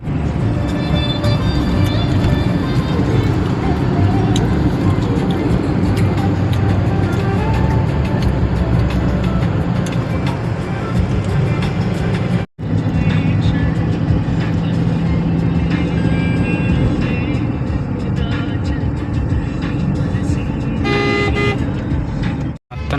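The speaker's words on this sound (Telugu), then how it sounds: "మొత్తం ట్రాఫిక్ అయితే వచ్చింది విజయవాడ వెళ్తాకి" Dense road traffic backed up by construction on the route toward Vijayawada, a continuous loud rumble of car engines with scattered horn toots throughout, briefly cut once near the middle.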